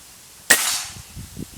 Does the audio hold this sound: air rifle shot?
yes